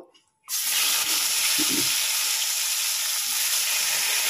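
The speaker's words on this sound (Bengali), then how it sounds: "এই কড়াই আবার একটুখানি তেল দিয়ে আমি কই মাছটা হালকা করে ভেজে নেব" Koi fish dropped into a little oil in a wok bursts into a sudden, loud, steady hissing sizzle after a brief near-silent start, staying intense and close.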